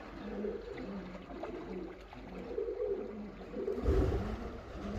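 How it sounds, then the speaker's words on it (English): Pigeons cooing inside an enclosed building, a low rhythmic series of muffled coos repeating behind a gap in the wall, moderately close and steady, with a brief thump near the end. "Yes, definitely full of pigeons in there. Can you hear them cooing?"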